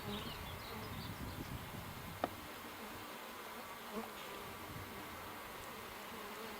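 Honey bees buzz around an open hive, a soft continuous swarm hum close by with a couple of faint knocks.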